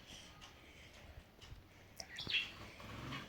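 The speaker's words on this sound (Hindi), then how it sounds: "तो हमारी चिड़िया रानी क्या कर रही है?" Small bird trapped inside a small bedroom, chirping in a few faint, brief tweets against a quiet room background.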